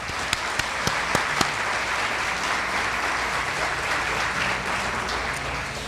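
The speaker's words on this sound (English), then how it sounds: "Let's give one more round of applause for our Teachers of the Year." Applause at a Teacher of the Year gala rolls on steadily from a large audience, with a few sharp, distinct claps standing out early before the sound settles into an even, continuous roar of clapping.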